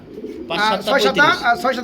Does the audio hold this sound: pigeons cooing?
yes